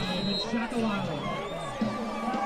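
Spectators packed into the stands at a high school football game between Beech and Springfield, a steady broad crowd murmur with scattered cheers and whoops, voices blending into continuous babble.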